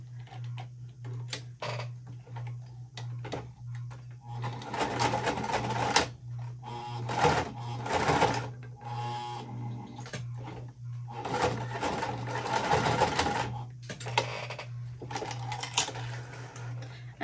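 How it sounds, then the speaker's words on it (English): Sewing machine stitching the seams of a tote bag, bursts of rapid mechanical whirring broken by pauses and small clicks, over a steady low hum. "I'm just sewing the 2 lines"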